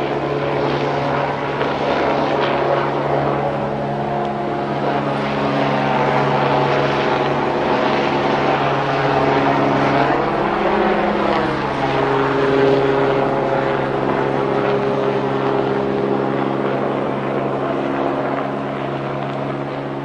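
A helicopter flying low overhead above an apartment at night, a loud continuous rotor and engine roar with steady throbbing, close and sustained throughout with no voices.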